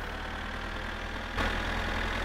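A combine harvester engine in the video game My Summer Car runs at a steady, rumbling idle with a rhythmic low knock, then grows slightly louder and rougher partway through.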